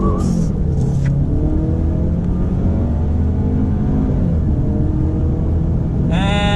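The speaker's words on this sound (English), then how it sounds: "So I'm gonna floor it here from a dead stop." A 2020 Ford Fusion Titanium with all-wheel drive and traction control off accelerates hard from a dead stop, its engine roaring loud and close and climbing through the revs, with a brief shift before pulling again.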